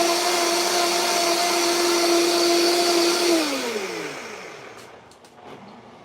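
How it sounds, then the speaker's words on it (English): A blender whirs steadily at high speed as it blends a frappe with ice, loud and close, then its motor pitch drops and winds down to a stop near the end. "And then I'm gonna add ice and blend it again to make it a frappe."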